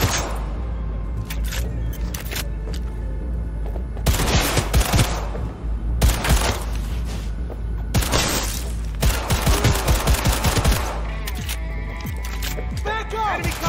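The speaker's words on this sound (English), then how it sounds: "They're opening fire!" Enemy gunfire in the video game Cyberpunk 2077: rapid automatic bursts and heavy shots crackle and boom in waves, loud and close, mixed with shouting voices and combat noise.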